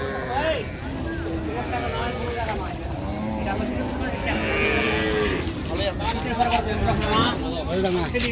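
Cattle moo repeatedly amid a busy village cattle market in Raniganj, Dinajpur, several animals lowing near and far over a constant babble of crowd voices and background noise.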